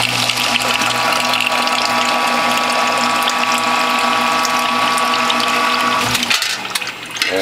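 A Norwalk juicer presses oranges with a continuous mechanical whir and grinding hum that runs loud and steady, then drops off briefly near the end.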